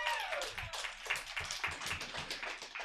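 A comedy club crowd claps and applauds for a couple of seconds, a dense patter of many hands with a few whoops, moderately close and fading slightly toward the end.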